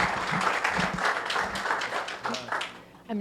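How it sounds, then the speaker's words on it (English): An audience at a Miami tech meetup applauds its sponsors, a busy round of clapping with a few voices and cheers mixed in, tapering off near the end. "let's give Ironhack and the other sponsors a round of applause"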